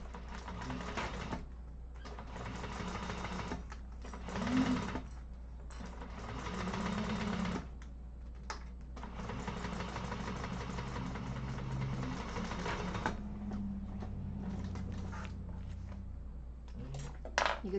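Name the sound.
sewing machine top stitching a bag edge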